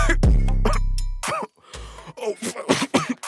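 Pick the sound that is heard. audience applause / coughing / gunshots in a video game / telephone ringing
coughing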